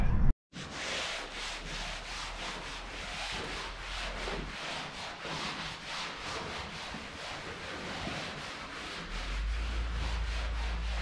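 A rag wiped in steady back-and-forth strokes across fresh body filler on a Chevy Nomad panel, using lacquer reducer; a close, continuous rhythmic rubbing with no talk.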